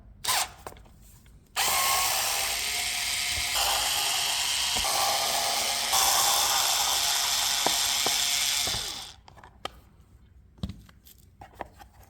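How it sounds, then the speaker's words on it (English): A power driver with a Torx T20 bit whirs steadily for about seven seconds while removing air intake bolts on a Ducati Multistrada V4, loud and close, with a few ratcheting clicks before and after. "We need to unscrew 1, 2, 3, 4 bolts to remove the old air intake and install the new one"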